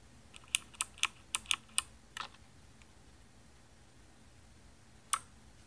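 Keys clack on a Motospeed CK61 budget 60% mechanical keyboard: six crisp, evenly spaced strokes, a brief cluster of clicks, then a single isolated press after a pause, close and fairly quiet.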